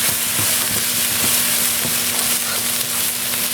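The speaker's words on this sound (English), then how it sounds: "you can kind of use the stir fry method" Vegetables stir-frying in a pan, a loud dense sizzle running steadily throughout with faint scraping and stirring taps, close and unbroken, no talking.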